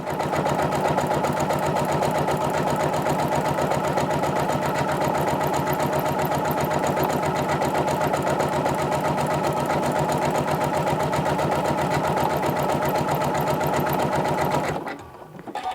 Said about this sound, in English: you do not want to sit here and watch me stitch all the way around